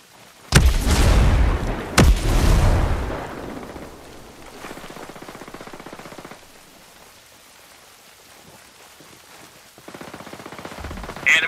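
Two sharp, loud blasts early on, likely grenades, in Ghost Recon Breakpoint, followed by a long crackling wash of distant gunfire and debris that fades, then another burst at the end.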